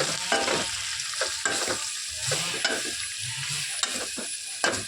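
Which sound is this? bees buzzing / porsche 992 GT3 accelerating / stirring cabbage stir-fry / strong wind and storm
stirring cabbage stir-fry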